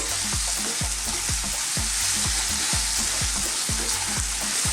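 Goat meat for curry fries loudly in a pan over medium-high heat, with a steady hiss and a rhythmic scrape of stirring strokes roughly every half second.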